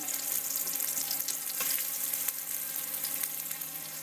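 Food sautés in a hot pan with a steady, fairly quiet sizzle and crackle that runs continuously with small spits and pops.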